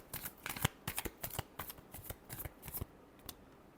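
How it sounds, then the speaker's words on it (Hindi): Tarot cards being shuffled by hand, a quick series of crisp riffling flicks and slaps, close up and fairly quiet, with no talking over them. "last shuffle"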